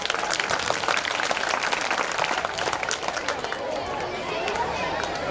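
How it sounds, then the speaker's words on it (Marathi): An audience at a school's annual function breaks into applause when a prize is announced, dense clapping from a crowd with murmured chatter underneath, sustained for several seconds at a moderate distance. "पारितोषिक म्हटलं की टाळ्या वाजल्या"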